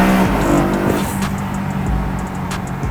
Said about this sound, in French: Il a mis un silencieux un peu plus typé qui fasse plus de bruit.